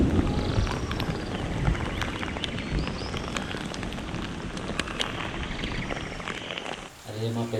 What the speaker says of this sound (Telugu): వర్షం మాత్రం చాలా బాగా పడుతుంది.